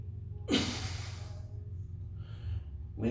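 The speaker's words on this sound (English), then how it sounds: "3 big breaths, go on" Deep, audible breaths taken during a hip-flexor and lower-back stretching routine in a low lunge, a long exhale then another inhale starting, close and soft.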